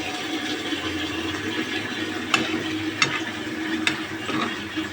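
Tilapia fillets deep-frying in a pan of oil, a steady broadband sizzle running throughout with a few sharp scrapes and clicks as the pieces are stirred and turned.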